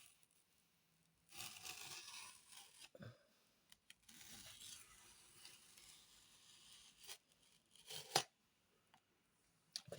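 A craft knife cutting along a ruler line through the layered cover of a handmade junk journal, heard as close, quiet bursts of scraping and tearing with brief pauses between strokes and a sharp snap near the end.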